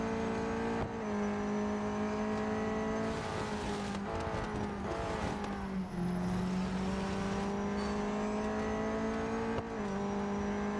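A race car in the video game Real Racing 3 drives and brakes, its engine a steady loud whine that dips and climbs through gear shifts and braking, with brief tire noise. The engine runs continuously, with no talking.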